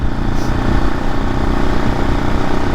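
A 2007 Husqvarna FS 550E supermoto's single-cylinder engine runs with a steady, loud, unbroken drone, close by and with no voices over it.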